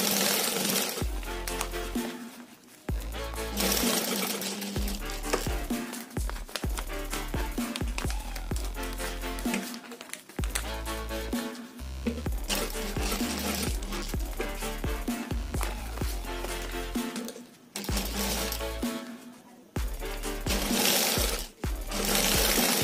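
A sewing machine stitches a transparent TV remote cover in loud, rapid mechanical bursts, repeatedly starting and stopping with short quiet gaps between runs of stitching.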